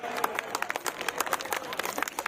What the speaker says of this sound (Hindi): उसके लिए एक बार जोरदार तालियां हो जाएं